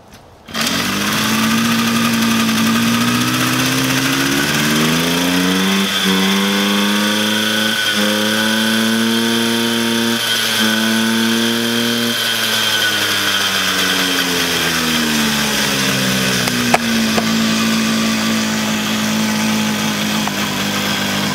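A Ford Pinto engine running on its first start, a loud, steady idle with a rising and falling hum as the revs shift, close to the car and without talk.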